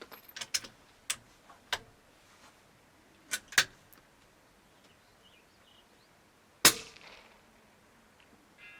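Sharp, distant rifle reports from a Bergara B-14R firing Norma TAC 22 ammunition at a steel silhouette target outdoors: several quick cracks early on, two more mid-clip, and one louder shot with a short ringing tail near the end.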